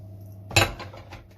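A single sharp clink of a spoon against a mixing bowl while chopped Mars bar pieces are stirred into cookie dough, close and fairly loud, then a soft scrape trailing off.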